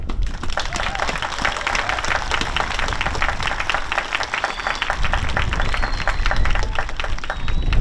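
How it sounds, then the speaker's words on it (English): Crowd applause at an outdoor Veterans Day parade ceremony, steady clapping from many people sustained throughout, with a continuous rumbling background and faint whistle-like tones over it. "I think everybody deserves a round of applause."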